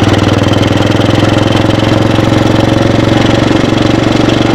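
A 1948 AJS 500 custom motorcycle pulls hard in second gear, its big single-cylinder engine thumping in a fast, steady, loud rhythm of close, evenly spaced pulses.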